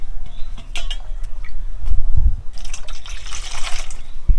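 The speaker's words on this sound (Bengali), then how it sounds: "এবার আমরা গোলাপগুলো ধুয়ে নেব। জল দিয়ে দিলাম।" Water poured from a container over fresh roses to wash them, splashing and gurgling in bursts with drips and a louder pour near the end, close by with no talking.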